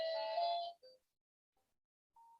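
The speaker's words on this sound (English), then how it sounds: "I do apologize for the doorbell." A doorbell chimes indoors with a bright two-tone ring that fades after under a second, followed by a short, fainter tone later on.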